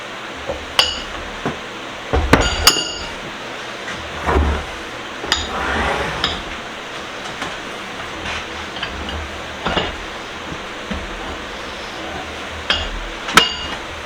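Sharp metallic hammer blows on a large Reed 106 bench vise during restoration, landing irregularly as scattered single strikes with quiet gaps between them.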